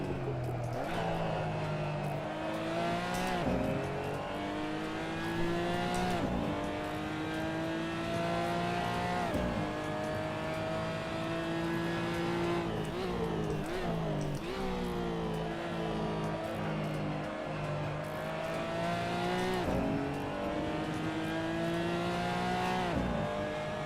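A racing car engine in the Assetto Corsa or iRacing racing game drones loudly and continuously, with repeated rising revs and gear-shift drops through the laps, occasional tire squeal, and no talking over it.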